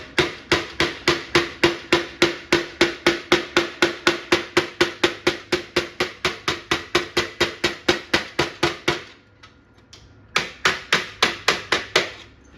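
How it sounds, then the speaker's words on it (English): A hammer and dolly shape 22 gauge sheet metal on the front valance of a 1949 Studebaker: a long run of steady, evenly spaced ringing taps, about four per second, close and clear, with a brief pause before the tapping resumes. "we'll go grab the hammer and dolly. Okay, now keep in mind this is 22 gauge. We don't have to smack it real hard with a hammer."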